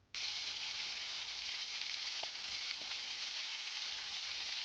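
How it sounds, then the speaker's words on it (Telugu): Whole biryani spices drop into hot oil for an aloo dum biryani, setting off a sudden loud sizzle that holds steady and close, with a couple of faint clinks. "ఆయిల్ వేడెక్కిన తర్వాత ఈ బిర్యానీ ఐటమ్స్ వేసుకుందాము."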